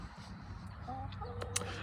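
Chickens clucking in a garden where lettuce and kale grow, with short soft clucks over a steady low outdoor background.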